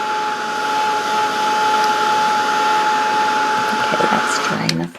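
A handheld dryer drying acrylic paint on a painted snowman's nose, a loud steady whirring blow with a constant whine that runs without a break and cuts off abruptly at the end.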